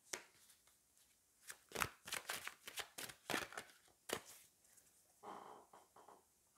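Tarot cards are shuffled and handled close up, a quiet run of quick riffling snaps and soft slaps followed by a short burst of sliding card noise.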